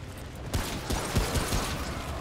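Rifle shots aimed at the Mangler boss in Remnant: From the Ashes, a few sharp cracks in quick succession after a brief quieter start, set against a dense, noisy battle backdrop.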